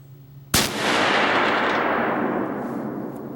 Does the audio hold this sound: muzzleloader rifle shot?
yes